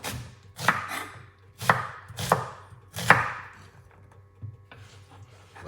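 Spring onions chopped with a knife on a board, four or five distinct close thuds at an uneven pace with quiet gaps between.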